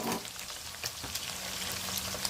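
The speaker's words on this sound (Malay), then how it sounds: "kita goreng ayam ni" Chicken pieces frying in hot oil for soto ayam, a steady close sizzle with small crackling pops, fairly quiet and continuous.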